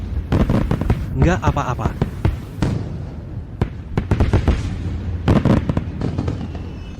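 Fireworks bursting over a city, a quick series of sharp pops and cracks at uneven intervals, fairly close and loud, with someone speaking briefly between the bangs.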